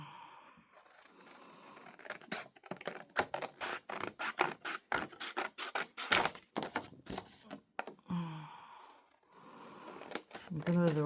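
Scissors cut paper for a scrapbook envelope journal in a rapid series of close, crisp snips that come in uneven bursts, followed by some paper rustling near the end.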